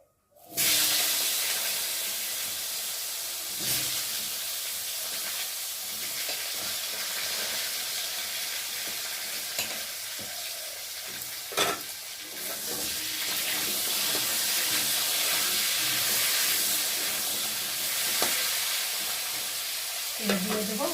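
Cut potatoes dropped into mustard oil tempered with whole cumin give a loud, continuous sizzle and hiss of frying, with occasional stirring scrapes and small bursts throughout.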